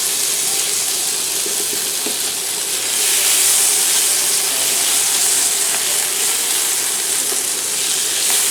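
Vegetables for a vegetarian samosa filling sweat in a hot pan, giving a steady, close, loud sizzle and hiss that swells slightly midway and carries on without any talk.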